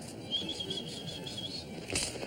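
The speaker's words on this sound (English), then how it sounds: "Come along, Tweeties. Come along, little birdies." Small sparrows flapping their wings in a garden, a soft fluttering patter with a brief louder burst of wingbeats near the end, faint and close.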